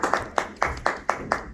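A Toastmasters club audience claps to welcome a speaker named Caroline, a few evenly spaced, rhythmic group claps close by, about four per second, with no talking.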